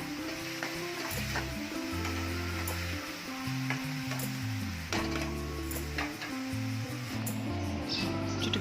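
Curry leaves and coriander sizzling in hot oil in a pan for a masala egg fry, a steady close crackle with occasional stirring, under a faint droning background hum.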